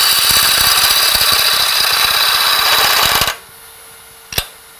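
Lathe turning a sphere with the tool cutting like a skew, loud steady rough whirring and scraping that stops abruptly, leaving a quiet hum and one sharp knock.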